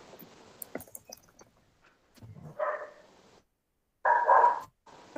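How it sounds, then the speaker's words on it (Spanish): A small dog barking during an online class, a few short sharp barks heard faintly through a computer microphone, separated by quiet gaps and soft handling noises. "¿Quién es el perrito que ladra?"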